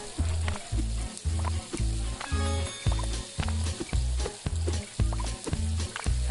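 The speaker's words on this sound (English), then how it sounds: "This is another meat to go on the frying pan." Meat sizzles steadily in a frying pan in the cooking video game Overcooked, with rhythmic pulsing game sounds and clinking effects layered over the continuous frying hiss.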